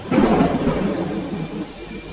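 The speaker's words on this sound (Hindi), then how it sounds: "उसके बाद तेज हवाएं चलने लगी और फिर झमाझम बारिश शुरू हो गई" A deep roll of thunder rumbles under steady, heavy rain, the boom swelling early and fading into the rain's hiss.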